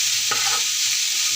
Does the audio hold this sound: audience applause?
no